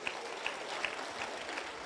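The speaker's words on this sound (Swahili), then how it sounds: "Mpigieni makofi." An audience at a county security forum applauds with steady, dense clapping and a few sharper claps standing out, fairly close and continuous throughout.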